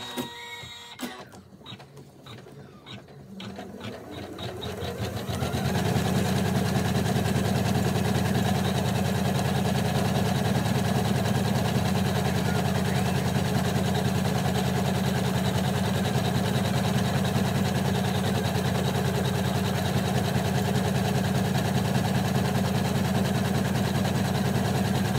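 A sewing machine stitching a hooded towel starts up and settles into a loud, steady mechanical whir that continues unbroken, with no talking.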